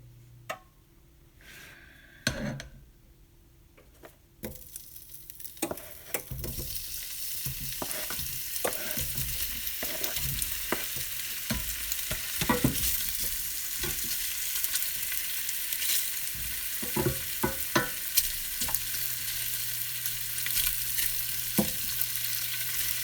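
Food sizzles loudly in a pan as jambalaya is being made, with metal clatter and clicks at first, then a steady frying hiss punctuated by scraping and knocks of stirring, no voices.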